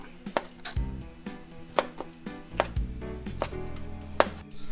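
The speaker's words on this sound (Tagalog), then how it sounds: "So hiwain ko lang din po siya ng medyo pahaba" A knife cuts ginger lengthwise on a cutting board for papaitan, giving a string of irregular, close thuds and taps as each slice lands. The kitchen is otherwise quiet and no one speaks.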